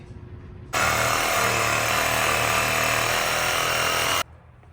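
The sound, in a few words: power tool cutting through a rubber suspension bushing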